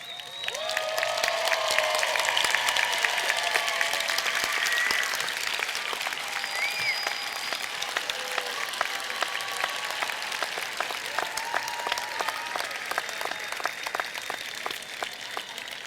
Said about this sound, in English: I want the students to give you a rousing round of applause.